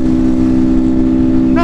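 A Honda Bros 160 motorcycle running without its air filter, a loud continuous engine drone with a strong steady hum and rough buzzing texture, close by throughout.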